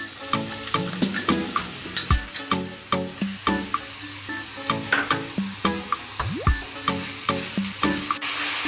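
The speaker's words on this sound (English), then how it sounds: "So saute for 2-3 minutes again" Ginger garlic paste sautéing in a pan while cooking radish sabji, a steady crackling sizzle with repeated rhythmic stirring scrapes close by, no talking.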